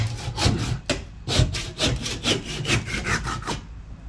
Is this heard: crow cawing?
no